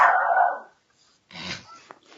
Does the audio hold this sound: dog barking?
yes